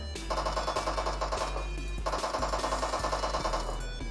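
Gunfire in PUBG Mobile comes as two bursts of rapid, evenly spaced shots over a steady low game hum, fairly quiet, with no one talking.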